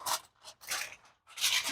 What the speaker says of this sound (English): Take the wider aluminum foil, and you're going to cover it really nice and tight.